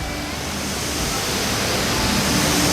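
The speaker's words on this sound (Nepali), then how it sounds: "यता खोलाको आवाज" A river near an ashram in Dharan, Nepal, rushes in a dense, constant roar of broadband flowing water that stays loud and even from start to finish, with nothing else standing out.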